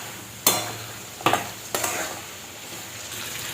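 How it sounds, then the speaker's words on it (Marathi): Mutton fries in masala on a gas stove for a village-style Marathi mutton fry, giving a low sizzle under three sharp stirring scrapes of a spoon against the pan. "आता हे आपल्याला चांगलं मसाल्यामध्ये परतून घ्यायचं"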